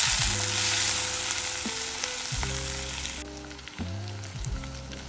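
Halved tomatoes and green and red chillies frying in a pan give a loud, steady sizzle, broken by a few stirring scrapes and shuffles as the pieces are moved around.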